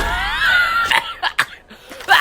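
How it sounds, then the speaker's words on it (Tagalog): Several short, sharp coughs in quick succession, fairly close, following a bright tonal sound from a mobile sniper game. "wala sa plano yung ubo pre"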